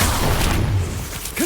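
An Incendio fire spell goes off in Hogwarts Legacy as a short, loud burst of whooshing flame and booming rumble, with a brief rising tonal flourish at the end.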